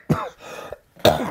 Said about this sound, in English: I've had this cough for a long time.